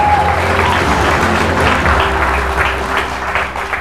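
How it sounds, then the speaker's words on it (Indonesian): An audience at a talk bursts into steady, loud applause that holds throughout, with a faint crowd murmur underneath. "Dialah Aang Edi Suwandi, tepuk tangan buat beliau."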